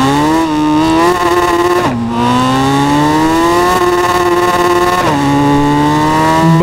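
2024 Suzuki Hayabusa motorcycle engine screaming at very high revs on a highway, a loud, close, sustained tonal whine that climbs steadily, dips briefly as gears shift twice, then climbs again.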